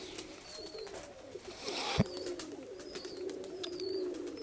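Soft, low pigeon cooing outdoors against a steady background hum, with a brief knock midway and faint chirps above.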